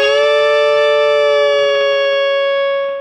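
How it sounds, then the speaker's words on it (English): A harmonized electric guitar lead rings out as one loud, sustained chord of two stacked notes that slowly fades, heard alone. "the harmony that he does mostly in the song sounds like this"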